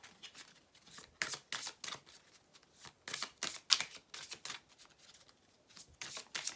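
Tarot cards being shuffled by hand, quiet close riffling and flicking in quick irregular bursts with short pauses between, no voices.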